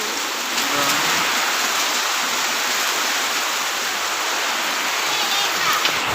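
Heavy rain hisses steadily and evenly throughout at a Bihu gathering, loud and close, with no pauses.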